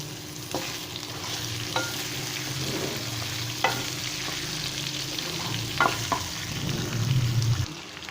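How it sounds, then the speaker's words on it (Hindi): Potatoes fry with a continuous close sizzle in a pan, punctuated every second or two by stirring scrapes and clinks of a spoon. "अभी इसमें मैं आलू शामिल करता हूँ और इनको अच्छे से मैं भून लूँगा आलूओं को"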